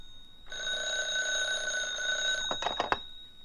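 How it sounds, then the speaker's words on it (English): An old-style telephone bell rings in a radio drama, a steady electric ring lasting about two seconds, then breaks into a few short separate rings before stopping; no one speaks. "the phone was ringing"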